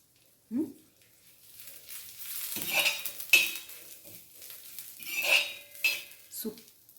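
Dry coconut is roasted in a pan and stirred, with a spatula scraping and clinking against the metal in irregular bursts and a faint sizzle underneath. No one speaks.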